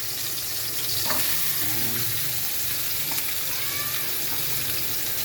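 Ginger sizzles as it is stir-fried in a pan, a steady broad hiss of frying with occasional faint clinks and stirring noises and no talk.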